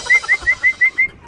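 A racing pigeon arrives at the loft after a 200+ km derby race from Agoo, La Union. Six short, evenly spaced bright chirps or whistles ring out close by, with no talk.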